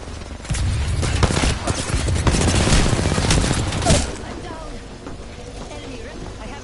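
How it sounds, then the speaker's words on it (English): Rapid gunfire in the Apex Legends battle royale game: dense, loud overlapping bursts of shots pile up through the middle, then ease into quieter scattered firing toward the end. "Shots fired."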